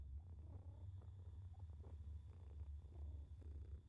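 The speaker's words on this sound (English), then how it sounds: "You hear it purring." Soft, low rumbling purr from a sleeping cat in the horror game BrokenLore: Unfollow, quiet and continuous with faint rhythmic pulses and no voices.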